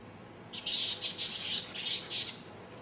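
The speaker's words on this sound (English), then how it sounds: "You can probably hear the squawking." Harsh, raspy bird squawks come in a quick run of about five bursts, fairly close and loud over quiet background hiss.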